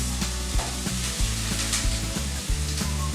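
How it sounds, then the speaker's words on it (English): Scallion, thyme and onions sizzle loudly in a hot pan while being cooked down for callaloo, a steady close frying hiss broken by several stirring scrapes and knocks. "So we're going to add the scallion and thyme with your onions."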